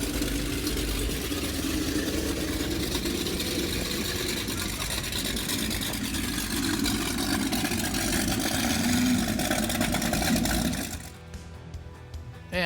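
Powerboats including a 38-foot Cigarette Top Gun arrive at a wharf during a powerboat week, their engines rumbling steadily and loudly at close range before dropping off sharply near the end, with voices partly under the noise.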